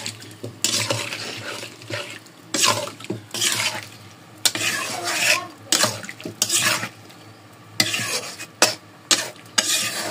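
Beef curry with a little broth cooking in mustard oil, stirred in bursts: loud scraping and sizzling strokes against the pot alternate with quieter simmering pauses, close and continuous over ten seconds.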